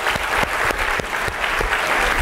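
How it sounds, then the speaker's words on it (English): Keynote session audience at DAVV Indore giving a round of applause, thick steady clapping with a few sharper individual claps standing out in a loose rhythm. "Let's have a big round of applause for her."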